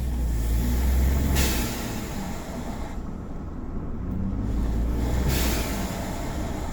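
A Ford F-150 EcoBoost engine in a video game, a low continuous rumbling drone with a steady throttle; it swells and eases slightly, with faint whooshes between, and nobody talks.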